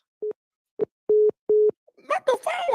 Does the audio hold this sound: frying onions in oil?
no